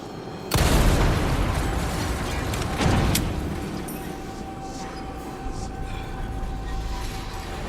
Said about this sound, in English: shoot the red explosive barrel at the back of the statue's head